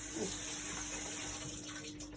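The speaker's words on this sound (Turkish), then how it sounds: "Gene elimi yıkayacağım." Tap water runs steadily into a kitchen sink as hands are washed while baking a moist cake, a soft, even splashing flow with no talk.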